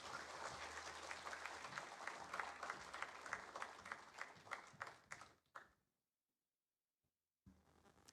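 A Korean Sunday church congregation claps in thanks, a lively run of many hands with crisp, rhythmic claps that stops abruptly partway through, leaving near silence before a faint sound returns.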